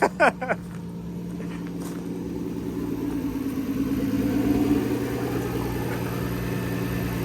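A turbocharged Lexus IS300 with a CT20 turbo starts after a few quick clanks, then settles into a steady idle that swells briefly in the middle before easing back.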